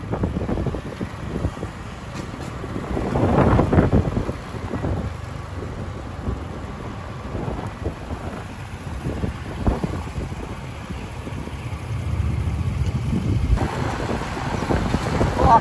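Cool wind buffeting the microphone while riding along a road toward a market, a rough, gusty rumble rising and falling throughout, with no talk over it.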